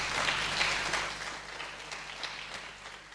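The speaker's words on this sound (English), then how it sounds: "I hope you can hear the loud applause from the audience" An audience applauds at a Kenyan affordable housing event, a diffuse, steady wash of clapping that is fairly faint and distant and gradually tapers off.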